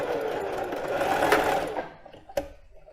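A domestic sewing machine runs a zigzag stitch along a fabric edge while making plus-size panties, a steady close mechanical whir that stops partway, followed by a brief clack.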